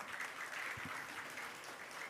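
Steady applause from a crowd at a land certificate handover ceremony in Sumberklampok, a dense wash of clapping heard at a moderate distance without pause.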